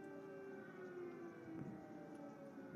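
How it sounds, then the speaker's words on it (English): Air raid sirens sound over a city in Ukraine, a steady, distant wail hanging in the background at low level with no talk. "We're hearing air raid sirens over the city here, guys."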